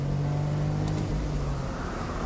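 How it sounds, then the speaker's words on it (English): A Smart Roadster with a slow semi-automatic gearbox drones at a steady engine note, the pitch dropping and shifting as a sluggish gear change comes through, close and continuous. "You select fourth and wait, and there it is, and then you select third"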